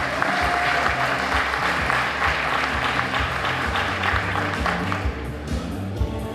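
Sustained applause from a large audience at a Teacher of the Year celebration event, dense steady clapping filling the whole stretch at an even loudness.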